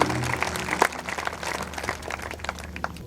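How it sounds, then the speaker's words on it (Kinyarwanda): Scattered clapping from a congregation at a church gathering in Burundi, applauding Jesus; moderately quiet, uneven hand claps with a tonal background. "Reka duhe Yesu amashyi menshi cyane."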